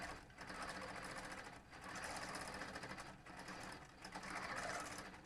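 A long-arm quilting machine stitches a swirl design around an existing panel pattern, running in a steady fast whir that rises and falls slightly, close and alone with no talk.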